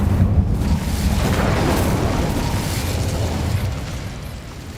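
In the Hogwarts Legacy video game, an Incendio fire spell bursts with a loud roaring whoosh of flame and a low rumbling boom that fades slowly over several seconds.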